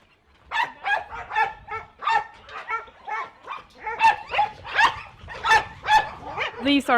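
Several working dogs at a rescue kennel bark in a steady, overlapping stream of sharp yaps and woofs, close and loud, with occasional higher yelps. A person speaks briefly among them.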